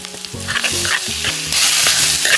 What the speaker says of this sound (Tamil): இனி பிரட்டி வச்ச இறால் எடுத்து சட்டிக்கு போடணும்